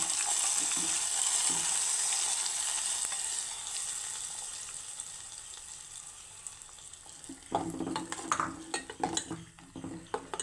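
Hot tempering poured into raw mango pachadi, giving a broad hissing sizzle that fades over several seconds, followed by a few close clinks and scrapes of utensils near the end.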